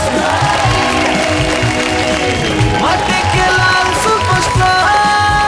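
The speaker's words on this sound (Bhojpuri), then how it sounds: "जोरदार ताली से स्वागत करिए इनका" Studio audience clapping and cheering to welcome a performer on a Bhojpuri singing reality show. The applause is dense and continuous, mixed under loud stage music.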